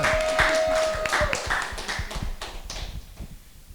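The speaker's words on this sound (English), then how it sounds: "Feel free to clap" A small audience clapping at a talk on art and craft, a scattered run of fairly close claps that thins out and fades over a few seconds, with no talking over it.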